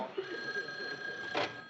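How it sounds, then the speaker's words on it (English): Telephone ringing indoors in a 1970s sitcom scene, a steady electronic ring tone held for over a second, then a brief burst of rattling noise at the end. "Joe, that's my phone"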